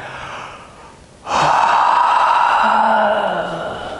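After a quiet pause during a yoga session, a single deep, breathy exhalation rushes out close to the microphone, lasting a few seconds and fading gradually.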